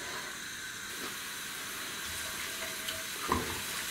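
Garlic and ginger sauté gently in a pan for a cabbage soup, giving a soft, steady hiss with a few faint clicks, quiet and without talk.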